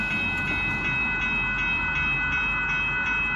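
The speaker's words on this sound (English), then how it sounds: "Amtrak taking the siding." An Amtrak Texas Eagle passenger train rolling past at night at Dittmar Road in Austin, a steady loud rumble of wheels on rail with faint rhythmic clicks throughout, no voices.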